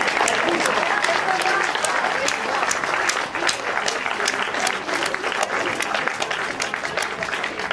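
Audience applause at a poetry concert, a dense, steady roar of many hands clapping close and loud for the full length, with no pauses.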